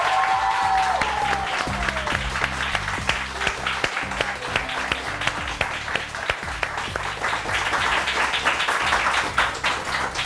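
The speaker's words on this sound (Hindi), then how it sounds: "अच्छा जनाब, तालियां" Studio audience applause on a Pakistani morning television show, a dense, steady wash of many hands clapping that fills the room for about ten seconds, with faint background music underneath.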